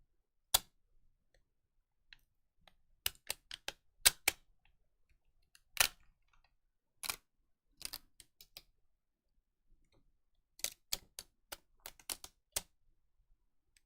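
Plastic casing pried off a Dell Inspiron N4110 laptop during a teardown: a scattered series of sharp, close clicks and snaps separated by quiet gaps, with no talking.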